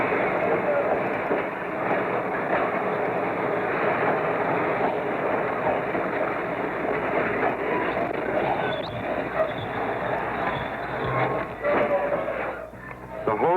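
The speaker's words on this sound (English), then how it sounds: "The locomotive finally rolls out of the service area and is coupled to the waiting train." A 1940s New York Central Railroad locomotive rolls out of the service area and couples to a freight train, a dense, continuous rail noise with rhythmic clatter and clanking and a faint metallic squeal partway through.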